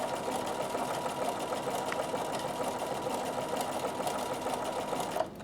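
A Bernina sewing machine runs steadily at speed while satin stitching, a close, even mechanical whirr with a fast rapid needle clatter, continuing alone until a brief knock near the end.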